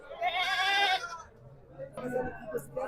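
Young goats bleat loudly and close by in wavering, high-pitched cries, one long call followed by a shorter burst after a pause.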